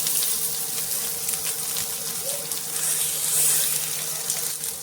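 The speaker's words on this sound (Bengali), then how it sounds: "এবারে দিয়ে দেব পেঁয়াজ কুচি।" Chopped onion hitting hot mustard oil with a bay leaf and dried red chilli, giving a steady, dense hiss of frying that holds evenly throughout with no talk.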